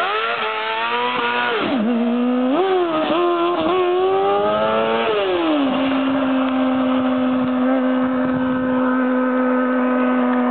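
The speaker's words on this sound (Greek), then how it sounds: "φαίνεται καινούργιο το μηχανάκι" Small motorbike engine, apparently new, revving on the island of Kos: a loud, close, buzzy engine climbing and dropping through several quick revs, then holding a steady high drone.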